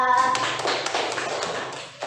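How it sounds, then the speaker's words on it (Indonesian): A classroom of students claps for a classmate, a short burst of quick overlapping taps under a voice at the start, fading out within about two seconds. "Tepuk tangan buat Ayu Tiara."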